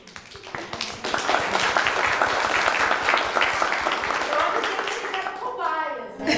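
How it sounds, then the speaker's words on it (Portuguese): Sustained applause from an audience at the closing ceremony of a science communication event, dense clapping filling the room steadily before fading at the end. "As palmas."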